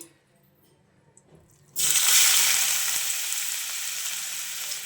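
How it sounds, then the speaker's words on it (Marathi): Grated bottle gourd drops into hot ghee in a kadhai. After a quiet start, a loud, bright sizzle bursts in abruptly and keeps crackling steadily at close range. "तूप छान गरम झालं की त्याच्यामध्ये घालायचं आहे आपल्याला किसून घेतलेला दुधी"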